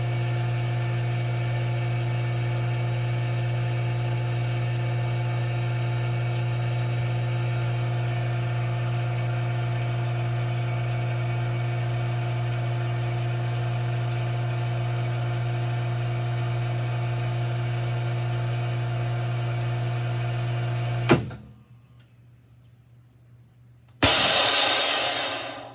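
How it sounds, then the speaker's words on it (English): Vacmaster VP320 chamber vacuum sealer pump drones with a steady loud hum for about twenty seconds, then cuts off abruptly, followed by a brief quiet gap and a sharp hiss of air as the bag seals. "now it's sucking down and putting a vacuum on it. And here in just a second it'll suck everything down and seal the bag."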